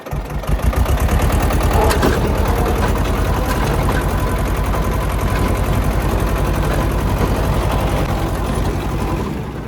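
A tractor engine runs steadily and loud throughout while a rotavator tills a maize field, the close, continuous mechanical drone holding even, with no talk over it.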